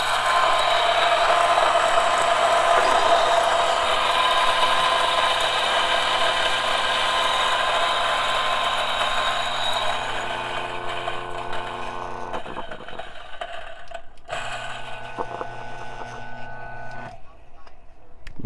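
Option O P64 and Turin DF64 coffee grinders grinding coffee beans, a loud continuous whirring motor with gritty crunching that thins and trails off into sparse rattles near the end, no talk over it.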